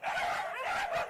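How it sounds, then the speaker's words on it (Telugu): Dogs bark in a short burst of a few yipping, bow-wow barks close by, heard clearly against a quiet background. "రాత్రి నుంచి అరుస్తూనే ఉన్నాయి, నిద్ర కూడా పోనీయట్లే ఈ కుక్కలు పాడుగాను."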